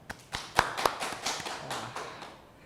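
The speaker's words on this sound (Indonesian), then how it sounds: "Tepuk tangan dulu yuk yang di belakang." Sparse, quiet clapping from a small audience at a school podcast opening in Kediri, a handful of scattered claps and taps that thin out and fade after a couple of seconds.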